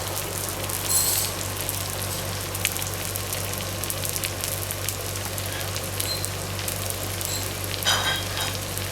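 Jumbo shrimp sizzle in hot garlic butter, giving a steady, close crackle and hiss with a few brighter pops throughout.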